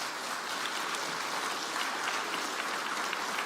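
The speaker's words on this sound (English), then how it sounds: "can we give him a round of applause at the moment?" A church congregation claps steadily and densely for a guest after his testimony. The applause holds at an even, full level throughout with no voices standing out.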